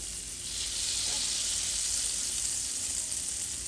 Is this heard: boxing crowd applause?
no